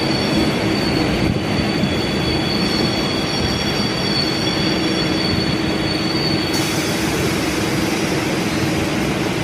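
A suburban train rolls steadily along the rails with a continuous loud roar and a thin metallic wheel squeal running throughout.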